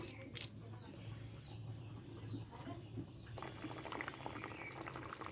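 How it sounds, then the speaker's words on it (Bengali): Fish curry broth with potatoes boiling in a pot, a steady close bubbling simmer that grows busier and brighter partway through, with faint chirps in the background and no talk. "দেখেন ফুটে উঠেছে"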